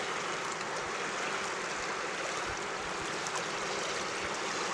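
Water swirling and rushing during gold dredging on the Rogue River, a steady faint wash of flowing water with no talk.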